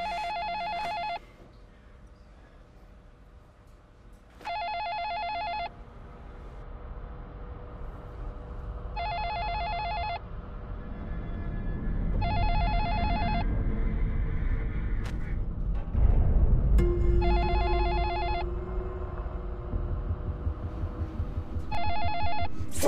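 A telephone rings unanswered in repeated evenly spaced bursts of electronic ringing over a low rumbling background, continuing for a long stretch at moderate loudness.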